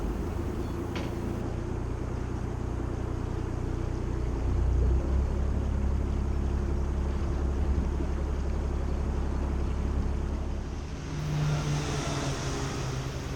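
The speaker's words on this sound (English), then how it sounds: "The boat ahead is pulling over to collect its crew" Canal boat pulling over near a lock, its engine a steady low rumble throughout, with a slight shift in tone near the end as it slows.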